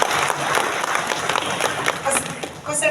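Audience applause at a PMI (Indonesian Red Cross) provincial meeting attended by hundreds of participants, a dense wash of clapping lasting a few seconds, filling the room at moderate loudness with a voice faintly mixed in.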